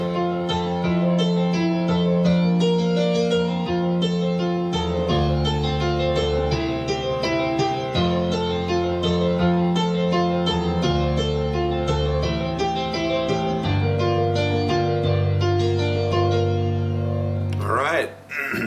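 A piano plays the bridge of a song in a steady flowing tempo, with bass notes shifting under repeated chords, clear and close for the full length with no talking.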